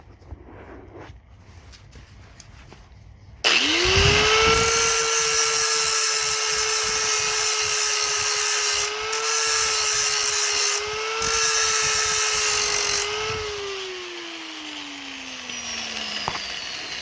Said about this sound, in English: Probably gonna sand it down a little bit more.